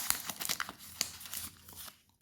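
A package being cut open with a knife, with crinkling, tearing packaging and a few sharper crunches, close and fairly quiet, no talking.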